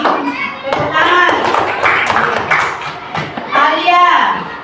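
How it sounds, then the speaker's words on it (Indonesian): Schoolchildren in a classroom clap their hands together in a lively burst of mixed, uneven claps, with children's voices and chatter running through it at close range. "ini nilainya Sabrina, tepuk tangan dulu"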